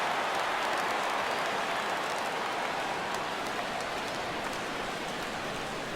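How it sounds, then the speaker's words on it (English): Baseball crowd rising for a full 3-2 count, a dense continuous roar of cheering and clapping from a large stadium audience, steady and loud throughout. "Crowd gets up for the 3-2."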